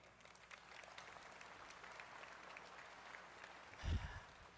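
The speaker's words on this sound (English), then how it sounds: "Give them a round of applause." A commencement crowd gives a round of applause, a soft, fairly distant patter of many hands that stays even throughout, broken near the end by a brief low thump.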